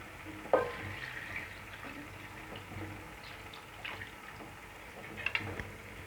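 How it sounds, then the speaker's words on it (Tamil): Water poured from a glass into a cooking pot for soya biryani, a quiet splashing trickle with a sharp knock at the start and faint clinks near the end, no talk. "இதே கிளாஸில் 3 கிளாஸ் தண்ணி சேர்த்துக்க போகிறேன்."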